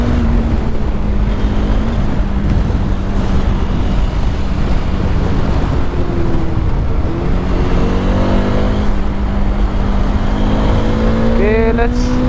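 A Bajaj Dominar 400 motorcycle accelerating hard in traffic, its engine note rising steadily under heavy wind noise, with other vehicles passing nearby.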